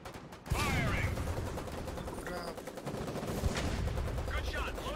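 Gunfire from a gun in the war video game Foxhole, with loud dense shots and a continuous din of battle starting half a second in and running throughout, with voices shouting over it.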